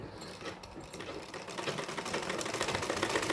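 A sewing machine stitches a small doll's dress bodice, a quick rattling run that starts soft and builds louder and steadier, close up with no voices.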